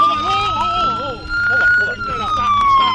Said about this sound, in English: Turn that siren off.